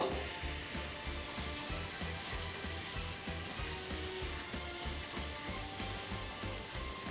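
Diced sweet potatoes fry in oil in a pan, a steady, close, even sizzle with faint scraping from stirring throughout.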